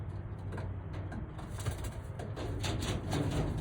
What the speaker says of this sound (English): 2 of the birds that I got from Mike were racing pigeons that